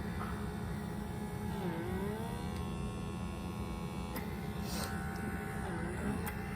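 A small handheld face vacuum cleaner runs at its highest suction setting with a constant close electric hum and buzz. Its pitch dips briefly a couple of times, and faint clicks sit beneath it.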